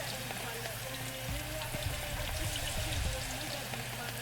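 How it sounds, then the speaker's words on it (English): Food sizzling while cooking in the video game Venba, a steady soft crackling hiss with faint pops throughout, low in level and unbroken. "Oh, the sound of sizzling."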